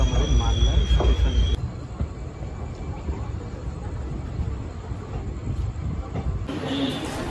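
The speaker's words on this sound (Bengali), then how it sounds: "আমাদের ট্রেনটি তার নির্ধারিত সময় থেকে 6 মিনিট লেটে ছাড়লো আমাদের মালদা স্টেশন।" The Teesta Torsa Express pulling out of Malda station, heard from inside the train as a loud rumble and rattle of carriages with wheel noise that steadies into a continuous running drone.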